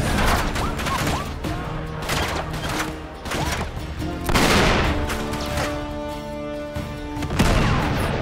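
Rapid gunfire in the video game Uncharted 3, sustained bursts of shots and booming impacts filling the whole span, loud and close, with occasional faint voice underneath.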